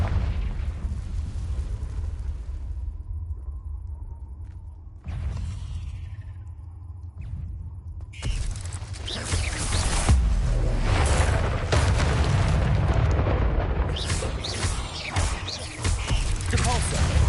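Confringo blasting spells in the Hogwarts Legacy video game set off loud, booming explosions, sparse at first, then a dense continuous barrage of blasts and rumbling debris from about the middle onward.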